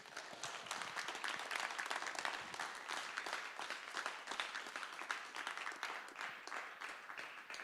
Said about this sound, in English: let's give it a big round of applause for all our athletes here